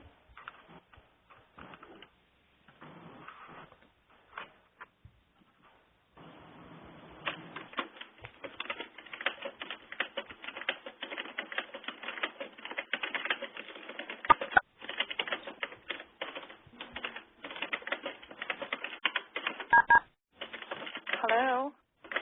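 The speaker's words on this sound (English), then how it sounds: "All I can hear is someone typing." Rapid keyboard clatter during an online webinar call, sharp clicky keystrokes in irregular bursts, close and steady, with brief pauses and faint voices in the background.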